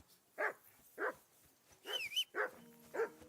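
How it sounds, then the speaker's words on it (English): A dog barks in the video game Kingdom Come: Deliverance 2, giving five separate sharp barks at roughly even intervals, fairly close and loud, with one brief higher whine mixed in near the middle. "I assume you can hear that damn dog of yours barking."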